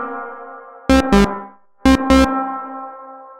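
Spring reverb on a Boss Space Echo RE-202 tape echo unit: sustained tones ring out with a washy tail, broken by two pairs of sharp loud bursts that crash through the spring tank, then decay.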